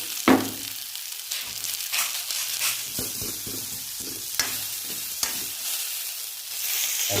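Onions and mushrooms fry in a pan with a steady soft sizzle, broken by occasional stirring clatters and scrapes, close and moderately loud with no talking.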